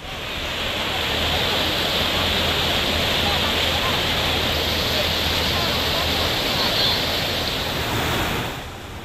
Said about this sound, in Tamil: காஞ்சிபுரம் வேகவதி ஆற்றில் கடும் வெள்ளப்பெருக்கு